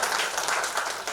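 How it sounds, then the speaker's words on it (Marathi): An audience claps and applauds at a Marathi film song launch ceremony, a dense, steady burst of many hands clapping at once. "तर एकदा आपण टाळ्या वाजवूया."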